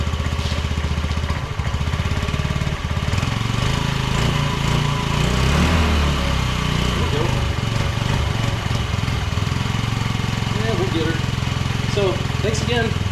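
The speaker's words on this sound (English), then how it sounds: "You can really hear that fuel pump." A Schwinn bicycle powered by a Honda CR500 engine runs steadily throughout, its electric fuel pump whirring continuously beneath a loud, rough engine drone, with a voice speaking briefly over it.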